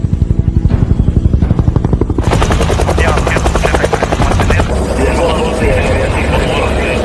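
Loud, close helicopter rotor thumping with a rapid steady chop, a roaring engine rising partway through; no talk is heard. A military helicopter used by Salvadoran soldiers near Honduras.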